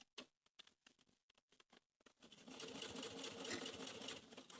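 Sewing machine top stitching across fabric for baby dungarees: a few short stop-start bursts of needle chatter, then a long steady close-up whirring run, loud and alone without talk.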